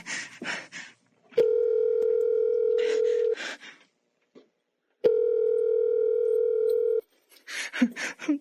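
Mobile phone call tone in a Filipino horror drama, two long steady electronic tones each about two seconds, separated by a pause, with brief short voice sounds before, between and after.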